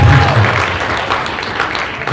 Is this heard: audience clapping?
yes